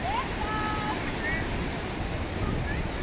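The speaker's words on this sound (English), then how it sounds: "Some beautiful waves." Ocean waves at the shore make a steady, loud wash of surf mixed with wind buffeting the microphone, and faint whistly tones drift through.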